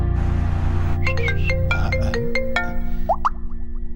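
A mobile phone ringtone plays in a Hindi-dubbed South Indian action film scene: a bright electronic melody of quick, repeated notes enters after about a second, carries over a low background hum, and ends with a few rising chirps.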